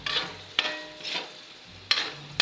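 Pares, a Filipino beef stew, simmers in a pot, with a steady sizzle broken by several distinct scraping stirs of a utensil against the pot, close up and with no talking.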